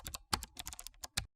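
Rapid bursts of keystrokes on a computer keyboard while entering a new item in a Google Tasks list, about ten close, crisp clicks in uneven rhythm, with no talking.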